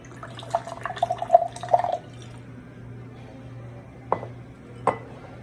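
Liquid splashes and trickles briefly into a container, followed by a quiet pause and a couple of soft knocks.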